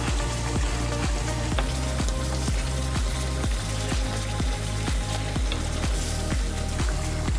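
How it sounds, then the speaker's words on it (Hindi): Spices fry in a pot while cooking chicken shinwari, a constant close sizzle broken by a regular, repeating scraping rhythm of stirring, with no voices. "बस इसको मसालों को थोड़ा सा इसमें भूनना है।"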